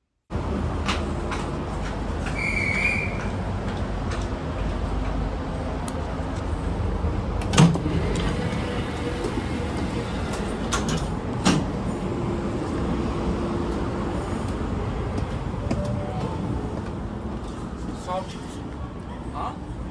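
Steady rumble and hiss inside a moving Oscar H set train, with occasional clunks and rattles and faint voices in the background.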